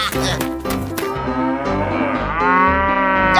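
A cow mooing in a 3D animal slide video game, one long loud drawn-out low moo right up close, layered over the game's music.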